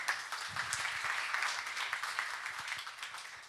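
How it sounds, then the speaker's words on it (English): Steady applause from an audience at a deep tech accelerator demo day, dense clapping held at an even level across the whole stretch and fading slightly toward the end, with no voices over it. "Round of applause, please."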